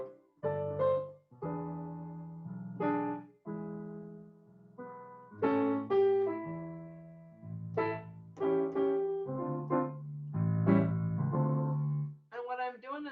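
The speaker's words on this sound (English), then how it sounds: "Another feel, it's called a 2-beat feel, and it's a 2-beat feel because you feel 2 beats" Piano plays a bass line in the left hand in a two-beat feel, alternating between chord tones under chords in the right hand, a steady loud phrase of about thirteen seconds with no talking.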